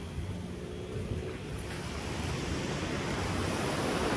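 Ocean waves washing onto the beach at Puerto Ángel, Oaxaca, a steady broad surf roar with wind, gradually building in loudness with no voices.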